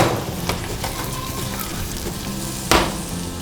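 Steady sizzling of onion and apple frying in butter in a pot, a continuous crackling hiss with a couple of brief sharper bursts, close by.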